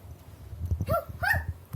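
A voice imitates a dog, giving two short bark-like yelps in quick succession, close and moderately loud.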